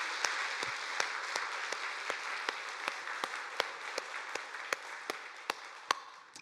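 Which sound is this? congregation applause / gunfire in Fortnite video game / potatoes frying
congregation applause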